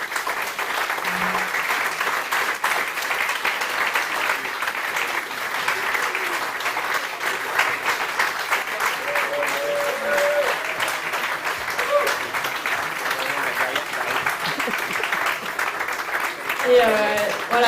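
A live audience at a tech-week event applauds loudly and steadily for about eighteen seconds, the clapping dense and unbroken, with a brief voice emerging near the end.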